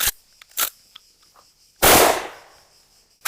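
A single loud, close blast from a Winchester 1887 lever-action shotgun, a heavy boom with a rolling tail, preceded by a few small mechanical clicks and knocks.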